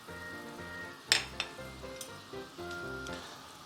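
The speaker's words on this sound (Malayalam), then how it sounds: "ചിക്കൻ സ്റ്റോക്ക് നന്നായിട്ട് തിളച്ച് വന്നിട്ടുണ്ട്." Chicken stock at a rolling boil in a pot with lemon slices added, a soft steady bubbling hiss broken by a few clinks of utensils against the pot.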